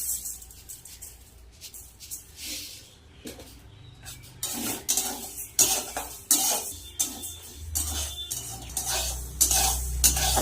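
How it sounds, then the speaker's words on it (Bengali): Mung dal fries in a hot wok while a utensil stirs and scrapes it, making repeated metallic clinks and scrapes over a faint sizzle, quiet at first and growing busier and louder toward the end. "কড়াই গরম হয়ে গেছে ডালটা ভেজে নিই মুগ ডালটা"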